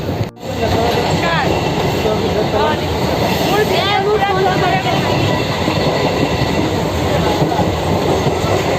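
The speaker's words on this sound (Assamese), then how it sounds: "ट्रेन चल रहा है दुदुक दुदुक करके" A moving passenger train rattles steadily and loudly along the tracks from start to finish, with brief wheel squeals near the beginning and faint voices underneath.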